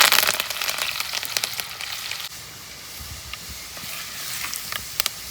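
Curry leaves crackle and sizzle in hot oil on an outdoor stove, loud at first with sharp pops, then easing to a steadier, quieter fry with scattered crackles.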